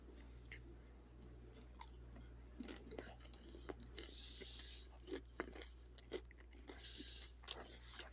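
Crunchy deep-fried chicken in a herb batter, fried in canola oil, bitten and chewed close to the mic, giving scattered crisp crunches over a steady low hum.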